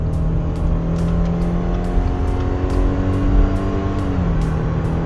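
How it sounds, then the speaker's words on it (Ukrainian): A 2020 Subaru Forester 2.5 automatic revs hard, accelerating from zero to 100 km/h uphill, pitch rising and dropping with each shift, loud and close throughout. "Спробуємо розігнатися від нуля до сотні, рухаємося вон в ту горку"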